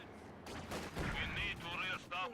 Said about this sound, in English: The mortar just took a shot.